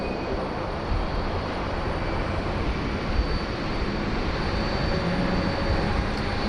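Qantas flight 740 rolls along a Sydney Airport taxiway late at night, a steady, moderately faint engine rumble and hiss holding evenly throughout with no voices.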